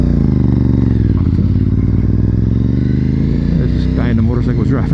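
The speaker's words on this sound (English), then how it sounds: "This guy in the motorcycle was driving pretty slow." A slow-moving motorcycle engine drones loudly and steadily up close, its pitch shifting slightly as it rolls past, with some rattling toward the end.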